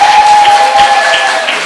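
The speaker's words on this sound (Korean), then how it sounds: "다시 한번 큰 박수 부탁드립니다" A church congregation applauds steadily through the whole brief moment, a dense wash of clapping with a faint sustained tone underneath.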